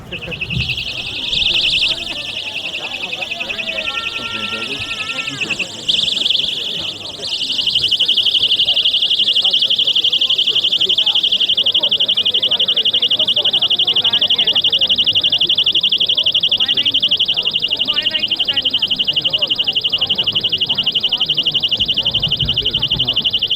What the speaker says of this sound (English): if you have an alarm, sound the alarm!